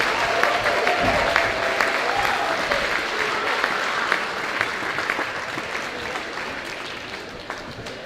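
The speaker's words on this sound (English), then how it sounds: "Let's give them a round of applause." A gym crowd at a Shanley boys' varsity basketball game applauds the senior class of players and cheerleaders, a steady, loud wash of clapping and cheering that holds for about eight seconds and tapers slightly toward the end.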